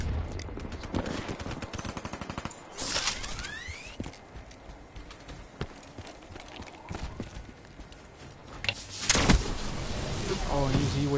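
Full-auto gunfire in a first-person shooter video game, rapid bursts of shots crackling through a busy game mix while someone talks over them.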